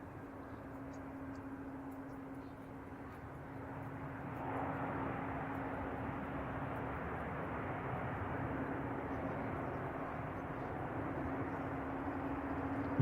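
An Alaska Airlines jet heard from a distance at San Francisco airport as it starts its takeoff roll, a low steady hum with a constant tone that grows a little louder about four seconds in and then holds.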